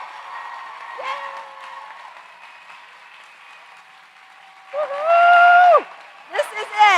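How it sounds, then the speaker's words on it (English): Audience applause at a 2021 undergraduate graduation ceremony at Stephens College. Steady crowd clapping runs throughout, with loud cheering voices and whoops rising over it near the end. "Everybody, applause, please."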